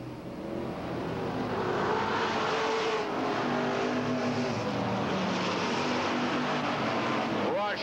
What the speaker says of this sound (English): Frank Denkenberger in car 10 moves under Al Teachin for the 3rd spot.